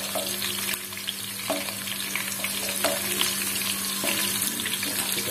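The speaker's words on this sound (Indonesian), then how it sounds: "Baru kita masukkan bawang merah." Shallots sizzling in a pan with a steady frying hiss and occasional stirring clatter, a constant low hum underneath, no talking.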